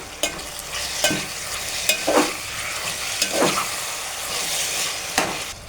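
Food being stirred and mixed in a pan, with spoon scrapes landing roughly once a second over a steady low sizzle, close and fairly loud, no voices.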